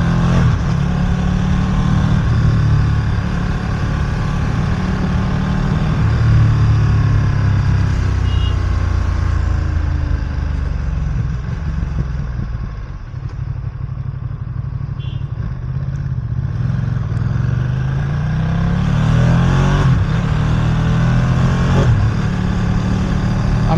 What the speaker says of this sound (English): Moving traffic. Pretty decent moving traffic.